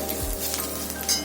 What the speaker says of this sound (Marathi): आता त्यामध्ये आपण सुकं खोबरं किसून घेतलंय 1 वाटी, ते मिक्स करू आणि ते पण लाल होईपर्यंत आपण भाजून घ्यायचंय व्यवस्थित।